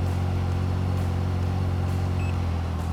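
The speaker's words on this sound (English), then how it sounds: "So first thing we do is start the engine." A Can-Am Maverick R side-by-side idles steadily after starting, a close, continuous low engine hum with a faint rattle and no talk.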